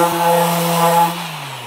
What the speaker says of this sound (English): now we'll give it a sand